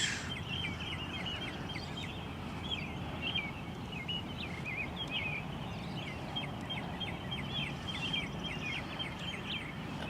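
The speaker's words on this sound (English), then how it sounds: "I can hear birds chirping too." Birds chirp outdoors in a continuous run of quick calls, moderately faint over a steady broad background hiss, with no speech.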